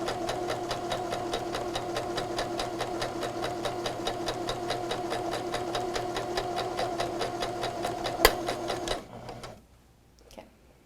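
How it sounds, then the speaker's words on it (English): A sewing machine runs steadily for about nine seconds, stitching quilt patches together with a fast, even mechanical rhythm, then cuts off near the end, leaving near silence. "As we're sewing 4 patches together"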